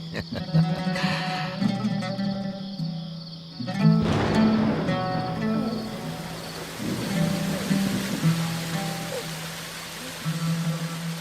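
Rain falls in a dramatic scene of a historical religious film, a soft steady hiss layered under swelling music and tonal effects.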